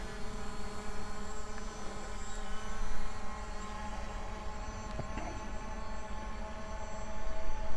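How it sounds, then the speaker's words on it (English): A ZLRC SG906 Pro quadcopter drone flying in orbit mode outdoors: a steady, droning motor whine with layered tonal hum that holds constant, swelling slightly as it circles. "So now the drone is orbiting round me."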